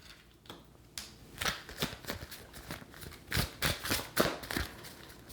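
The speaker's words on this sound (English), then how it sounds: "This is a very slim deck, so it's generally doesn't really shuffle as good" A slim deck of cards is shuffled by hand during a card reading, giving a series of quick riffling bursts and soft slaps in an uneven rhythm, close and moderately loud with no talking.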